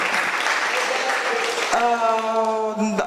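A crowd applauding steadily, then a sustained musical tone rises as the clapping continues underneath.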